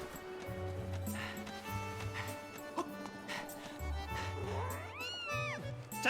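A cat meows and yowls in the video game Legend of Zelda Skyward Sword, its rising and falling cry standing out near the end over looping game music and ambient tones.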